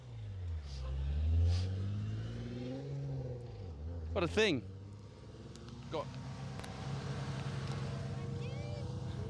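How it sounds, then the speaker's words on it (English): A rally car on a rally stage drives off, its engine revving and fading into the distance like an army truck, with people talking over it close by. "Just look at it as it drives off. It's like one of these army trucks."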